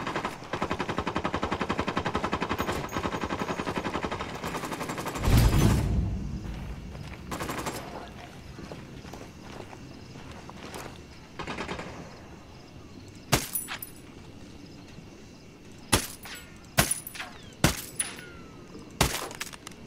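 Bursts of automatic gunfire ring out in the Ghost Recon Wildlands video game, first as a long dense fusillade, then as sharp separate shots and short volleys spread through the second half.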